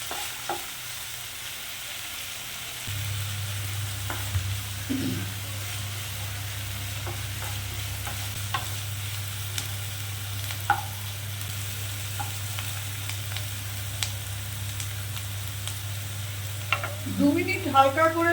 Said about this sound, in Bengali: একটু পেঁয়াজটা ভেজে নেব, তবে খুব লাল করে ভাজা যাবে না, হালকা লাল করে ভাজবো